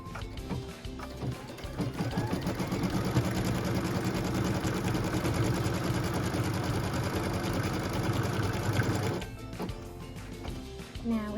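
Sewing machine stitching a tack-down and cut line on a quilt block, a steady rapid mechanical whir with a fast stitching rhythm that runs for about seven seconds before stopping.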